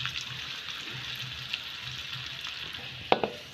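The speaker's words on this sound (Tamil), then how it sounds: "ரெண்டுமே நல்லா நெய்யில் வறுபடட்டும்." Raisins and cashews frying in ghee for rava kesari give a steady, close sizzle and crackle, with a couple of sharper pops and spoon clicks near the end; no one speaks.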